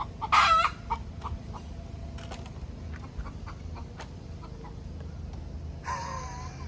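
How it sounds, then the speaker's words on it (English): Chickens cluck and a rooster crows, with one loud squawk at the start, scattered soft clucks and a drawn-out crow near the end, heard at moderate distance over a low rumbling background. "The chicken."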